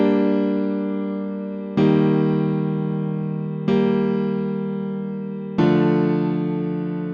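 A chord progression played on an FL Studio keys instrument: four sustained chords struck about every two seconds, each ringing and slowly decaying, alone with no talking.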